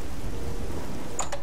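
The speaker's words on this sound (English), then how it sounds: "We'll sit here and try and wait out the rain." Steady rain hisses through a thunderstorm in the video game Oblivion, a dense continuous wash with a brief brighter crackle near the end.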